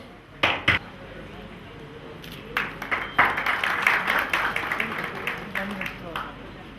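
Scattered claps ring out at a college fest for the guests, with two sharp early claps and then irregular, thin clapping building from a small group of people.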